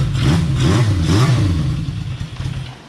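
A 1978 Honda CB550 motorcycle that sat for two years, its engine running close by with a loud, rough mechanical clatter and a few quick rises in revs before settling toward idle.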